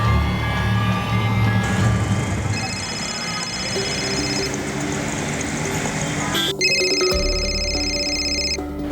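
A telephone rings in a home, electronic ringtone tones repeating steadily over a dense, loud background with other sounds mixed in.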